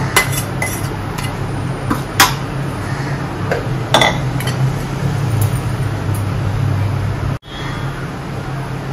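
A spoon stirs roasted fenugreek into wheat flour in a bowl for methi ladu, making a series of sharp clinks and knocks against the bowl over a low steady hum, with no speech.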